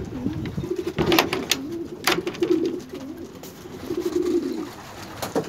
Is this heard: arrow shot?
no